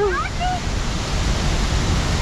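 Meltwater from the largest glacier in continental Europe rushes loudly beneath a bridge, a steady broadband roar close by and filling the whole moment, with a brief voice near the start.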